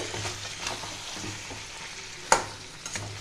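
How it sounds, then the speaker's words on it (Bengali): Mutton being sautéed with melted-down onions in a pan makes a close, steady sizzle, with scraping stirs and one sharp metallic clank of the spoon near the end. "ঢেকে ঢেকে আমি কষাবো।"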